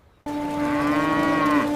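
A buffalo gives a single long, loud moo held steadily for over a second, close by and alone after a brief quiet moment.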